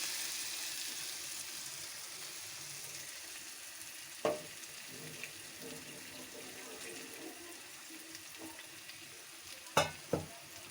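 Mutton fries in spiced oil in a kadai, giving a steady low sizzle throughout, broken by a few sharp clinks of a utensil against the pan.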